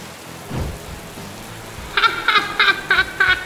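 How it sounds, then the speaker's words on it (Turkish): Heavy rain hisses steadily throughout, with a low rumble of thunder rolling in early, followed by a series of bright, rhythmic chirping calls near the end. "Aa, ne kadar çok yağmur yağıyor böyle."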